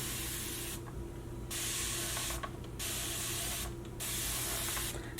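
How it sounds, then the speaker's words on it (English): A spray bottle hisses out fine water mist onto thick hair in several quick bursts, close by, over a steady background hum. "This spray bottle mists very lightly"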